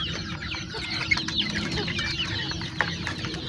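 A flock of backyard chickens clucks and murmurs steadily while pecking at natural feed in hot weather, with overlapping soft calls and a few sharper squawks, fairly close and continuous.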